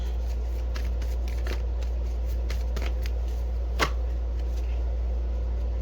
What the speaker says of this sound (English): I'm hearing, as I'm shuffling